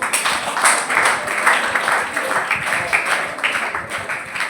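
Audience applause at a career-guidance seminar, a dense patter of many hands clapping steadily for several seconds in a room, with some murmuring mixed in.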